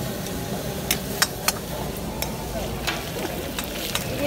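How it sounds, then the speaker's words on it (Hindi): Fish cooking at a stall in Kemari fish market, Karachi, with a steady broadband sizzle, occasional sharp clinks and scrapes of utensils, and busy market murmur underneath. "फिश ग्रिल बन रहे हैं।"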